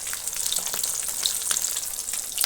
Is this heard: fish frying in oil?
yes